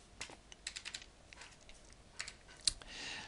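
Typing on a computer keyboard brings soft clustered keystrokes, a few quick taps, a pause, then more taps and one sharper key press, faint and close with no talk.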